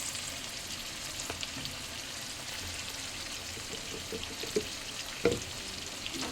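Vegetables frying with turmeric and chilli after ginger and garlic, heard as a soft, low sizzle with occasional light stirring knocks toward the end.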